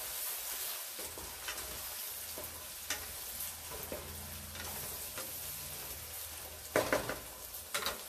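Onions frying with beef keema and potatoes, a low continuous sizzle with scattered stirring scrapes and knocks, louder clatter near the end, quiet and close with no talking.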